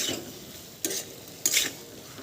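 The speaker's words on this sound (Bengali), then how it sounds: "এবার ভেজে রাখা মশলা মাখা সয়াবিনগুলো দিয়ে আবারও নেড়ে চেড়ে দিচ্ছি" Fried, spice-coated soya chunks being stirred back into a pan of cooked-down masala: a soft, steady scraping and sizzle, with two sharper spoon-against-pan scrapes standing out near the end.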